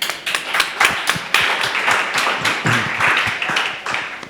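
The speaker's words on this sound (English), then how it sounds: "Please give me a warm applause to welcome Basti, Camillo and Marcos." Warm audience applause welcoming three panelists onto a stage at an immersive entertainment event, a fairly loud, steady stretch of many hands with sharp individual claps standing out.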